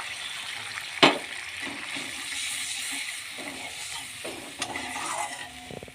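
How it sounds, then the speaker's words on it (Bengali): Water poured into a pan of cooked fish malai curry masala with salt, cumin powder and Amul milk, giving a soft sizzle and bubbling with one sharp clatter near the start and a lighter knock later. "অল্প জল দিচ্ছি।"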